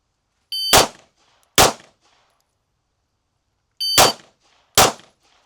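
Four sharp pistol shots during speed shooting practice, fired as two quick pairs with a pause between them, loud and close with short ringing tails.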